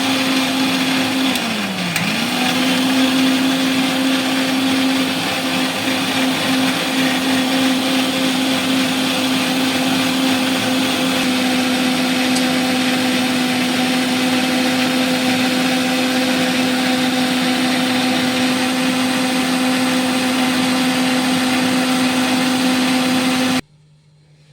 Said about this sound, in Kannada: ಈಗ ಇದನ್ನು ಗ್ರೈಂಡ್ ಮಾಡ್ಕೊಂಬರೋಣ.